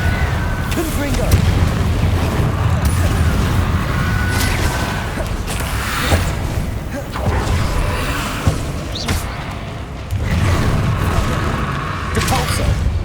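Confringo blasting-spell explosions in the video game Hogwarts Legacy: repeated loud booming bursts over a dense, continuous roar of combat noise, with no gaps between them.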